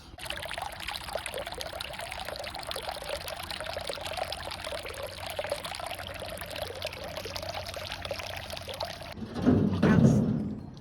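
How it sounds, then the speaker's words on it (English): Water pours from a watering can into a garden bird bath in a steady, continuous trickling stream for several seconds, ending with a brief louder splash and slosh. "let me just dip my can into here, grab some water and fill the bird bath"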